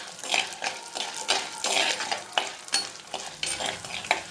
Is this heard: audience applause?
no